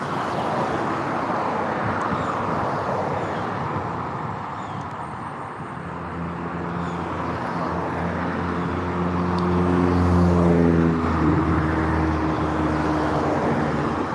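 A Dalton Police Department patrol car, vehicle number 77, passes by, its engine and tyre noise rising to a steady whoosh at close range and then easing off, heard over constant road rumble and wind, with no talking.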